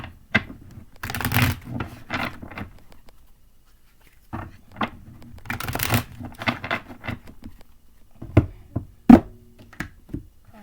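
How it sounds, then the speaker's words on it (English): Tarot cards shuffled by hand in bursts of riffling and soft slaps, with quiet gaps between rounds and a few sharper taps near the end, close and alone without talk. "I'm going to go ahead and shuffle your cards up a little bit for you."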